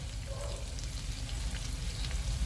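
Butter sizzling in a hot pan with shrimp in a home kitchen in the Philippines, a continuous soft crackling fry that holds evenly throughout with no talking.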